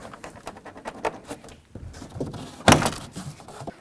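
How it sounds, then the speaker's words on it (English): A plastic trim tool pries the door panel away from the door of a 1994–2004 Chevy S-10, with scattered scraping and clicking, then a loud sharp pop as a clip releases. "you can carefully pry it away from the door"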